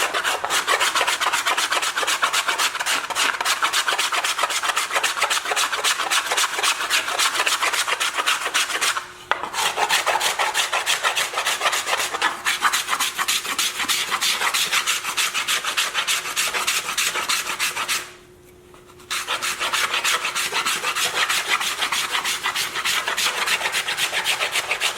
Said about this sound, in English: I'll take a scraper card and gently start smoothing and cleaning over all of my sanding marks